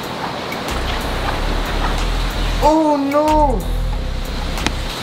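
Heavy rain pours down as a constant, loud wash of noise. A voice cries out over it partway through.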